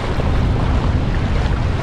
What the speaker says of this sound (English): got some more gusts